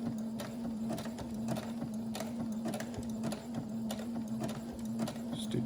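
A sewing machine running a zigzag stitch to mend worn underwear fabric, a steady motor hum with a fast, even ticking of the needle throughout, close and fairly quiet.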